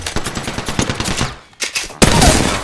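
Automatic gunfire in Apex Legends, with rapid, close, loud shots in a steady stream. The firing breaks off briefly, then resumes as a heavy burst near the end.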